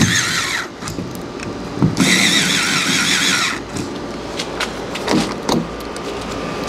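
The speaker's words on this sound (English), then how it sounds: "I'm going to use this electric screwdriver just to spin them a little faster" An electric screwdriver spins screws into a fingerprint keypad door lock: two short, loud, high whirring bursts, close by, separated by small taps and handling noise.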